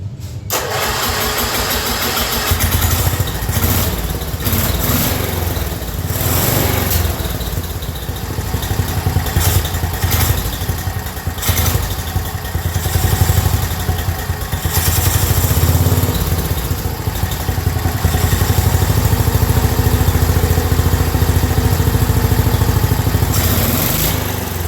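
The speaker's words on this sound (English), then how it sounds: "I was able to get the engine running and then getting full throttle" A 10HP Briggs engine mounted on a go-kart runs steadily, loud and close, with a rough buzzing drone that rises and falls as the throttle is opened up.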